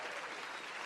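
Applause at a boxing event forms a dense, steady clatter of many hands clapping together through a brief moment.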